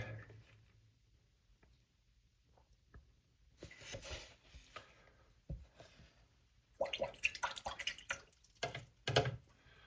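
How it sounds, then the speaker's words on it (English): Water drops falling onto Arches cold press watercolor paper during rock painting, a series of small soft drips and patters, irregular and close, some clustered toward the end. "Drop some water right down in here."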